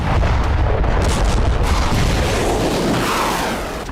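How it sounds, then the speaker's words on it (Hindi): Heavy, continuous booming rumble of distant artillery fire during military exercises, dense and loud throughout with no pauses. "आर्टिलरी के साथ हमले की प्रैक्टिस हो रही है।"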